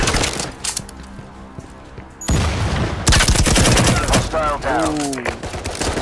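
Rapid bursts of automatic gunfire crackle loudly in the VR shooter Firewall: Zero Hour, sustained volleys with sharp cracks and a brief lull, while a player speaks over the action.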